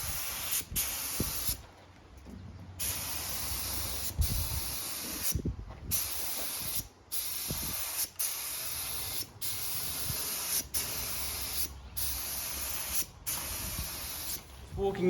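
Short bursts of spray hiss repeat in an irregular rhythm as primer is sprayed onto a tow truck, each burst loud and close, separated by brief pauses.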